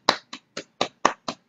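Applause for Jesus during a Filipino church worship service, heard as seven sharp, evenly spaced claps or snaps in a steady rhythm, close and fairly crisp, with no voices.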